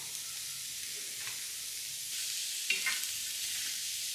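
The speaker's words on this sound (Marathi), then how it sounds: "आता आपण याच्यावर ओनियन टाकूया" Onion sizzles on a hot iron tawa while masala prawns are being made, a steady frying hiss with a few brief stirring scrapes, fairly soft and alone.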